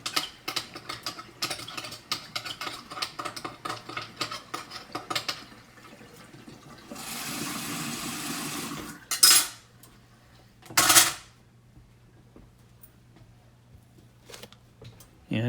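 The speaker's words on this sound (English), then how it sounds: "immediately scrub my spatula with a brush in the sink" A spatula scrubbed with a brush in a kitchen sink after cooking eggs, heard as rapid close scratchy strokes, then a stretch of running water and a couple of clanks.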